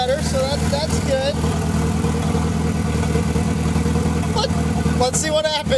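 A turbocharged big-tire car idles and revs at a Sick Week drag-and-drive event in the rain, with a steady, loud engine drone and faint turbo whine. People talk close by throughout.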